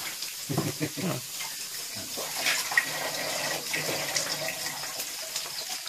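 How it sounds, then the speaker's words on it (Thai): Water poured into a pan while stir-frying herbal chicken in a home kitchen, a steady continuous splashing and hissing rush lasting several seconds, fairly close, with faint voices underneath. "เดี๋ยวขอน้ำลง"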